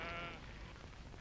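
A single short sheep bleat, faint and quickly fading.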